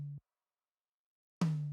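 Two MIDI tom drum hits without a gate, the first tail fading out at the start and a second sharp hit ringing on at the end, isolated and fairly quiet with a sustained low body.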